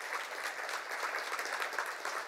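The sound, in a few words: applause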